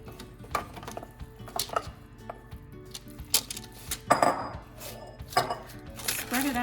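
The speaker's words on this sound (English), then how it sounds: "go ahead and transfer it to your baking pan" A food mixture is scooped into a baking pan with a utensil, giving irregular metallic clinks, taps and scrapes against the pan over a low kitchen background.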